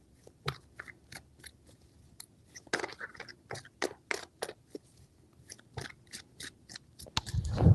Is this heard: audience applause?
no